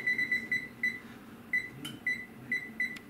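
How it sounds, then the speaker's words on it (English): Kitchen alarm timer being set, a string of short electronic beeps in an uneven rhythm, close and fairly clear, with faint clicks between them and no talking. "So I'm setting my alarm for 35 minutes"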